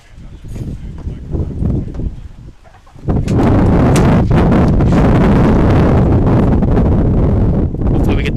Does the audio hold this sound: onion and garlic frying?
no